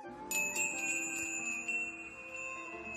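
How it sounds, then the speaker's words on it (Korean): A small bell hanging on the door of a sushi shop rings as the door is eased open late at night, a bright shimmering chime that lingers and slowly fades. "살며시 문을 열자 문에 달린 작은 종이 울렸지."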